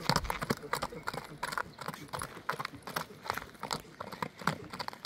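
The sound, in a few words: horse being walked, hooves clip-clopping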